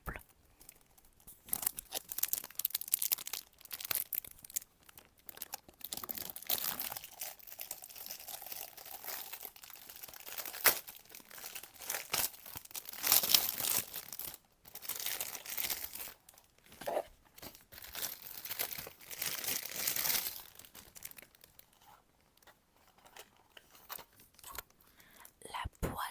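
A SHEIN parcel being opened up close in ASMR style, with crisp crinkling and tearing of plastic packaging in irregular bursts while a soft voice speaks quietly over it.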